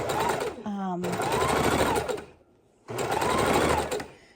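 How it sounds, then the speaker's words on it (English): Sewing machine running in two steady bursts with a short pause between, stitching a seam through leftover quilt batting, close and loud, with a person talking over the motor's drone. "we're sewing up this batting"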